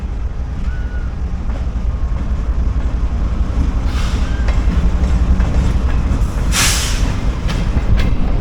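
A train shunts on railway tracks near a Hazara Express service, a loud, continuous low rumble of rolling wagons with faint clicks and a brief hiss, heard alone at close range.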